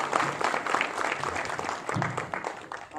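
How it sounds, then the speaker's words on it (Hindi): Audience applause for hospital staff at a Republic Day event at a medical college and hospital in Lucknow, a sustained patter of many hands clapping at moderate volume, with a few voices faintly mixed in. "और मैं चाहूँगा कि आप सब ताली"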